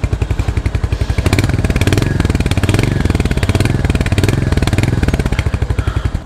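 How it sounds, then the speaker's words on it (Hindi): Royal Enfield Hunter 350 motorcycle with a basic stock exhaust, its single-cylinder engine thumping steadily at idle, then revved up and held with a rapid, loud, close pulsing exhaust note before settling back to idle. "तो मैं अभी रेव करके आप लोग साउंड सुनाता हूँ।"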